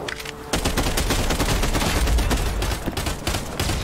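Sustained automatic gunfire in the Warzone shooter played in virtual reality, loud and dense bursts of rapid shots with no talking, running almost without pause after a short quieter lead-in.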